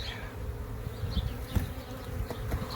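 Honeybees from a hive built inside a brick chimney, with much of the comb exposed during a relocation, buzz in a dense, continuous drone close by, with no talking.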